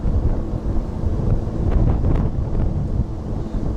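Outdoors on a windy day, gusts buffet the camera microphone with loud, continuous low rumbling and thumping, with no voices heard.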